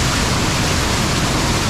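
A waterfall pours close by at a cave, its steady, loud, broadband roar of falling water filling the whole stretch without pause.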